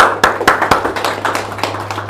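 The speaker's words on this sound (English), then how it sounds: "you guys deserve a round of applause" Scattered applause from a small audience at a sales seminar, loose, uneven claps continuing steadily over a faint room hum.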